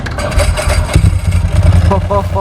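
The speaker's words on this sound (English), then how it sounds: "I'm gonna need you to start this thing up for us" A Ducati 998 motorcycle with a custom brushed steel tank starts up, its engine catching into a loud, throbbing, uneven idle close by, with a deep lumpy pulse running throughout.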